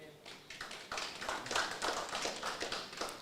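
Audience members clap at a party branch meeting, a quiet, brisk run of even, rhythmic claps lasting a few seconds with some talk underneath.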